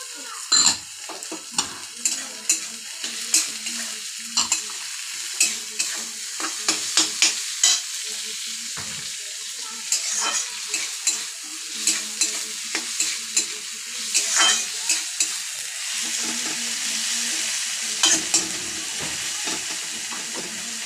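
Shredded cabbage and chillies stir-fried in a pan for homemade chowmein, with a steady sizzle and hiss broken by repeated scraping and clinking of a spatula against the metal pan, close and continuous.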